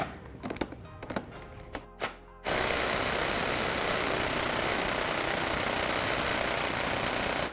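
A cordless impact tool on high setting works on the old brake caliper of a 1994 Chevy, with a few short clicks and bursts, then a loud, continuous whirring hammer that runs steadily close up.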